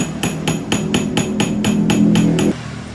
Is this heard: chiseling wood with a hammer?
yes